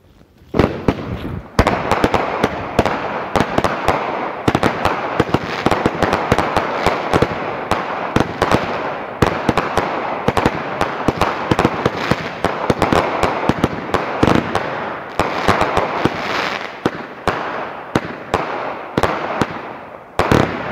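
Two Legend brand Screw Face 25-shot fireworks cakes fire back to back, a loud, dense run of sharp booming reports and crackling bursts that continues for around twenty seconds.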